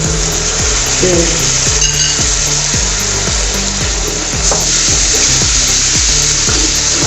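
Yogurt hits a hot pot of chana pulao and sizzles loudly and steadily, while regular stirring strokes scrape through the frying noise close by.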